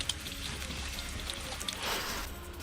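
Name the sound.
heavy unseasonal rain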